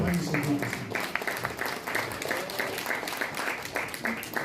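Audience applause at a memorial association's 50th anniversary ceremony welcomes a guest speaker onto the stage, a steady dense patter of many hands with some voices mixed in underneath.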